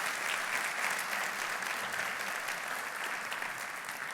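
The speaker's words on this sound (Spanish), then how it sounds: "Si quieres darle un aplauso a Jesús, dale un aplauso a Jesús" A church congregation applauds in steady, dense clapping that holds evenly for the whole stretch, with no voice heard over it.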